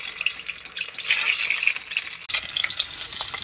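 Egg frying in a pan in a home kitchen, a constant bright hiss and crackle of hot oil at close range, steady throughout with one brief dip, no talking.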